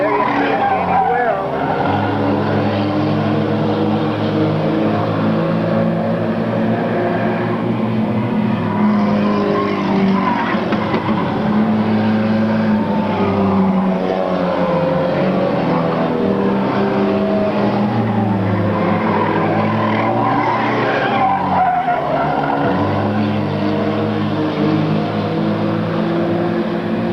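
Race cars roar continuously around an oval track with tire skids, engines loud and steady throughout, while a commentator talks over the action.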